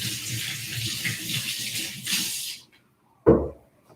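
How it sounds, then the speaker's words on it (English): Tap water runs into a kitchen sink while hands are rinsed, a close steady splashing stream for about two and a half seconds that stops, followed by a short knock. "Let me rinse my hands really quickly."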